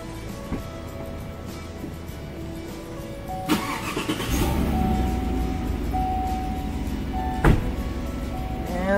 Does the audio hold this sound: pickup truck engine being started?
yes